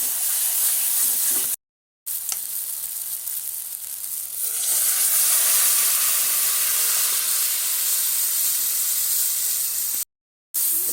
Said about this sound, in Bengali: মশলাটা ভাজা হয়ে গেছে, এর মধ্যে আমি ঘুগনিটা সিদ্ধ করে রাখা ঘুগনিটা ঢেলে দেবো